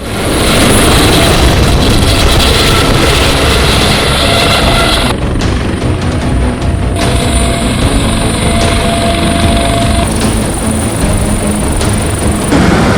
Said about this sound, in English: A helicopter has been signaled to come pick them up.